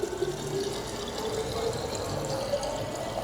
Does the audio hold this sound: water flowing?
yes